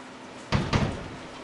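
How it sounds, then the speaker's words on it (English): Two quick knocking thuds sound close by, like a door being pulled open, followed by quiet room noise and cold wind blowing in on a windy day. "Open the door, the cold wind blows in."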